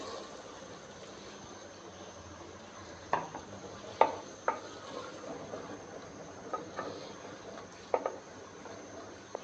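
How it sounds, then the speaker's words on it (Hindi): Boiled chickpeas added to cooked gravy for Lahori chana and stirred in a pot, heard as a few sharp clinks and scrapes of a spoon against metal over a low, steady background hum, faint and close. "अब हम इनमें बॉईल किए हुए चने शामिल कर देंगे"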